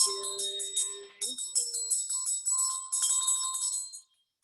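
A ritual bell rung during prayer practice, clear bright ringing strikes in a rapid series, close and fairly loud, fading out at the end.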